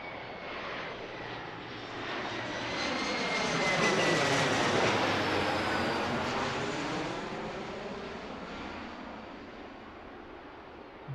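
A passenger airplane takes off from runway 28 Center at Pittsburgh International Airport during the evening rush, its broad engine roar swelling to a loud peak and then slowly fading, with no one speaking.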